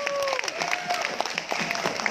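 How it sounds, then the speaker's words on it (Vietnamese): Audience at a Vietnamese-American businesswomen's beauty pageant claps for the contestants, steady applause running throughout while a host's voice speaks over it. "Những tràng vỗ tay để các thí sinh của chúng tôi."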